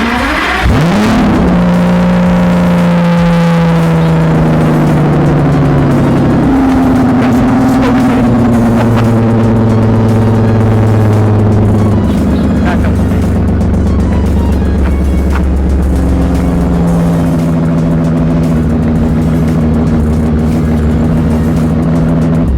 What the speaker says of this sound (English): if you're at all curious what a basically straight piped V12 Aston Martin sounds